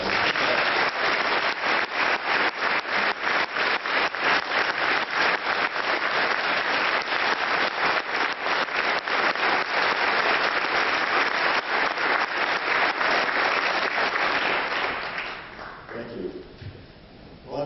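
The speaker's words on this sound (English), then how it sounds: "Let's give him a round of applause." A keynote audience gives sustained applause for an Air Force major who received the Bronze Star, steady dense clapping of a large crowd lasting about fifteen seconds before tapering off.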